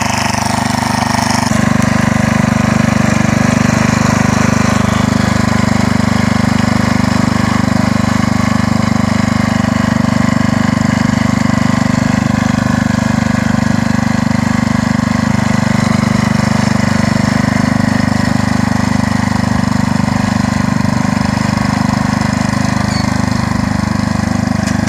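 Sears Super SS 12 garden tractor plowing a garden, its engine starting up and then running at a loud, steady drone close by for the whole stretch, with no speech.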